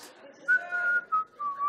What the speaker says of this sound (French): T'es en train de siffloter là, qu'est-ce que tu fais là?